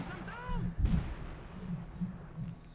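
Mortar fire in Company of Heroes 2: a single deep, booming shot near the start, with faint whistling tones before it, followed by rumbling battle ambience and a voice talking throughout.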